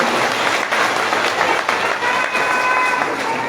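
Devotees at a religious gathering break into loud, sustained applause, a dense wash of many hands clapping together at close range for a few seconds.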